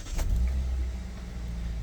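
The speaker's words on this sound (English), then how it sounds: "And then if we start the car up," A 2019 Hyundai i20 1.2 engine cranks and catches, a brief low rumble at startup settling into a steady quiet idle.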